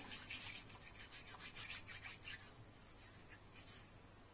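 Dried rubber solvent residue from a bicycle tyre puncture repair rubbed between the hands, a quiet rhythmic series of dry scuffing strokes for a couple of seconds, then fading to near silence.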